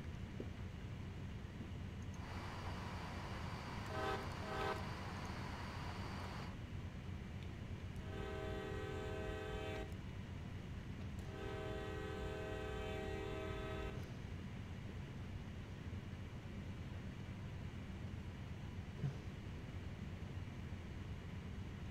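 A freight train rolls along in a railway simulation game, a low steady rumble under repeated horn blasts: a short pair of toots, then two longer sustained horn calls, before the engine drone continues alone.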